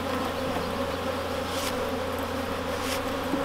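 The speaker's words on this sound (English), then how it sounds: "the guard bees in that hive are definitely protecting their hive" Honey bees swarm around an opened hive with guard bees defending it, producing a loud, dense, unbroken buzz that fills the scene without any voices.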